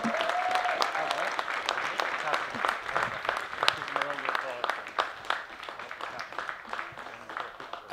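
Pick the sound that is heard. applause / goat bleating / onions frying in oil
applause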